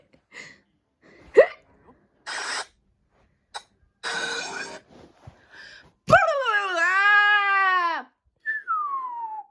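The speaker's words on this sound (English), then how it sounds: "Percy's hiccups have gone." A cartoon pony character hiccups in a series of short vocal bursts, followed by a long wavering cry and a brief descending whine, with spoken voices briefly between.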